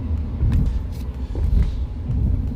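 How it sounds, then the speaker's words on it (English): Suspension of a Ford Maverick hybrid pickup truck thumps and rumbles while cornering, low knocks over steady road and cabin rumble, fairly loud and close, with no talking. "You can definitely hear the suspension there, but no issue."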